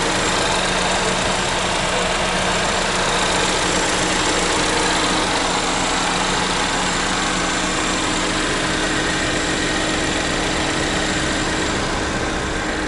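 A 2015 Chevrolet Equinox FWD with its Ecotec four-cylinder engine idling, heard close as a steady, even broadband hum that holds unchanged from start to finish, with no talking.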